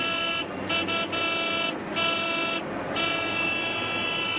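Car horn honking repeatedly in short and longer blasts, loud and close, over faint road noise.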